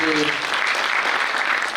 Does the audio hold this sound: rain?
no